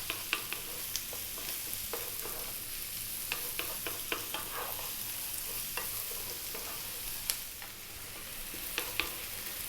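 Sausages seasoned with salt and black pepper frying over high heat, a soft steady sizzle broken by frequent sharp clicks and taps of a utensil stirring them around the pan, moderately distant and fairly quiet.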